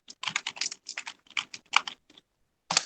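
Close, quick keystrokes on a computer keyboard in uneven clusters, with short pauses between runs of typing and a final isolated tap, without any speech over it.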